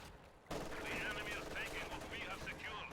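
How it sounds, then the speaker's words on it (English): MG42 machine gun fire in Company of Heroes 2: a sustained, rattling stream of automatic fire that starts abruptly and continues steadily, mixed with background battle noise and commentary. "Obersoldaten gets suppressed by the MG42"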